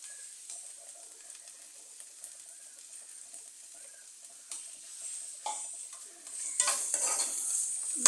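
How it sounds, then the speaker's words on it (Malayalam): Ghee is poured into a pan and stirred, with quiet scraping at first, then a louder sizzle rising near the end. "നെയ്യ് ഒഴിച്ചു കൊടുക്കാം."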